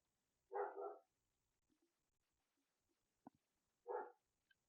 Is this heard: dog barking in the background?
yes